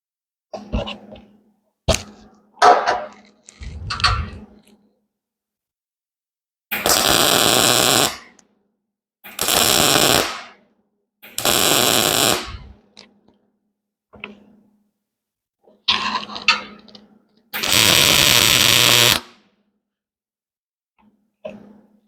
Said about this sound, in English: I'm going to plug weld the hole, fill it in